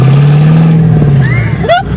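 A 1991 Ford Mustang Fox-body with a new 2.5-inch off-road H-pipe exhaust drones loudly and close, then snaps into a quick rising rev before dropping off.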